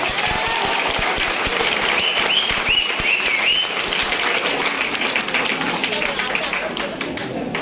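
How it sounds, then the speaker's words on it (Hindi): An audience at a seminar bursts into loud applause for a team, dense clapping that swells and then gradually thins toward the end, with some voices and shouts mixed in. "एक बार इस टीम के लिए जोरदार तालियां"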